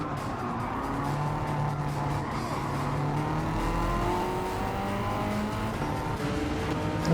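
An Alfa Romeo 4C and a Ferrari Testarossa racing in Gran Turismo 7, steady engine drone with shifting revving pitches sweeping up and down, continuous and moderately loud with no talk.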